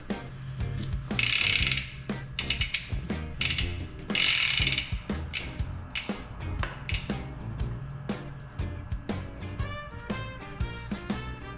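Wrench ratcheting on a mountain bike pedal being tightened, close and loud bursts of fast metallic clicking in repeated strokes, some with a rougher rasp, continuing with no talking.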